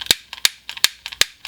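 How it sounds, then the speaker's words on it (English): A lighter nearly out of butane is struck repeatedly, four sharp clicking flicks at a quick, even rhythm, each with a faint follow-up tick, close and alone. "Lighter that's almost out of butane."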